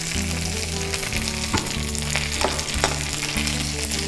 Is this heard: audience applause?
no